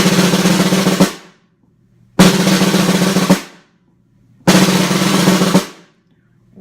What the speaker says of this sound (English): And then we come to a 17-stroke roll